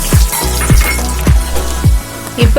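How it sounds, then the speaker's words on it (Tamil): Big onion frying in oil with popped mustard seeds for coriander rice, a steady sizzle broken by rhythmic scraping stirs about every half second, close and fairly loud. "இப்போ பெரிய வெங்காயம் 1 போட்டிருக்கேன், அது நல்லா வதங்கிருச்சு"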